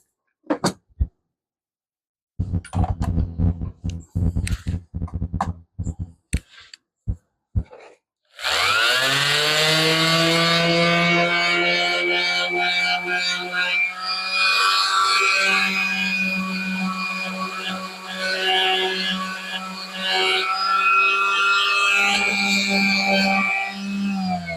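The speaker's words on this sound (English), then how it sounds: "So let me hit that with the sander really quick." A power sander works on a wooden deck box panel, preceded by a few sharp knocks and bursts of handling noise, then a loud sustained droning whine that holds steady for over fifteen seconds with slight wavering as it moves across the wood.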